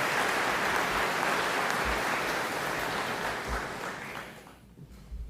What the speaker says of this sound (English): Can we get a round of applause for all those people